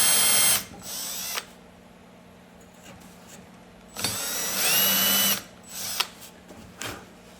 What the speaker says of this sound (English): Now I've switched to my wider drill bit